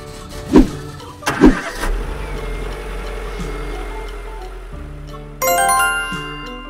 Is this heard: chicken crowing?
no